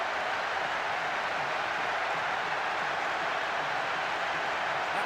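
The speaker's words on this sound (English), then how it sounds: "The capacity crowd are enjoying the goal celebration." A stadium crowd in the PES 6 football video game roars steadily after a goal, a dense, even wash of cheering with no break across the whole stretch.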